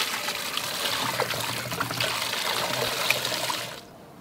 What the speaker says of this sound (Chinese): 再给它冲洗一下哈